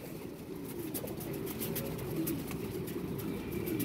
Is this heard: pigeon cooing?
yes